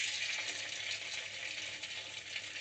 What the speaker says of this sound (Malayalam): ഇനി നമുക്കിതിലേക്ക് നമ്മളുടെ കുഴച്ച് വെച്ച മാവ് ഇതിലേക്ക് എടുത്തിടാം